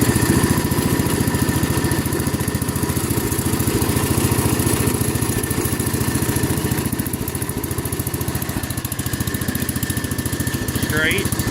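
A Wheel Horse Charger 12 garden tractor fitted with a snow plow runs steadily nearby, its engine putting out a loud, even, rhythmic thrum throughout with a brief higher sweep near the end.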